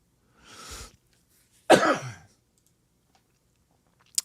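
A man coughs outdoors during windy hurricane weather, giving one short raspy burst and then a louder, harsher cough about a second later, both close and dry against quiet surroundings.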